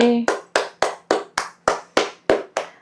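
A studio audience claps at a celebration where a cake is being cut, about ten sharp, evenly spaced claps in a steady rhythm, close and fairly loud, with no talking over them.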